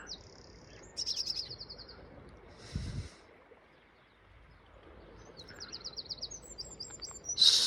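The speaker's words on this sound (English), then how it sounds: "Sparrows and a wren." Small birds call from scrub on the Isle of Wight coast near Ventnor Bay in spring, with quick trilling bursts from a wren and brisk sparrow chirps coming in short, spaced phrases over quiet outdoor ambience and a brief breathy noise.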